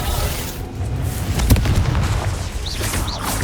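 A Bombarda explosion spell in Hogwarts Legacy sets off one heavy, booming blast midway, surrounded by a low rumbling din of combat.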